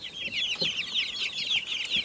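A flock of young chickens chirps and clucks continuously in close, overlapping high peeps, with a few soft low clucks underneath and no talking.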